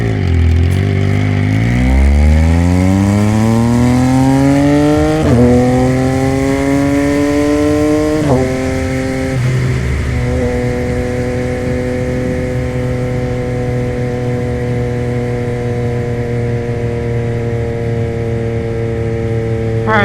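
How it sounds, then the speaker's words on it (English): Yamaha MT-09 motorcycle engine while riding, revving up through the gears in rising sweeps with shifts, then settling into a steady cruising drone, loud and close with wind under it. "I want to do a riding vlog on this where I give you guys my viewpoint on it while I'm actually riding the bike."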